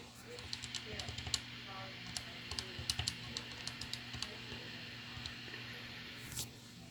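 Numbers being typed on a keyboard, a run of light, fairly faint key taps in an irregular rhythm over a steady hum, with a soft thump near the end.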